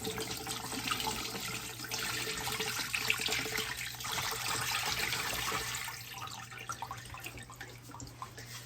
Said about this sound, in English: I'll do one more rinse here. Just get anything else off I missed.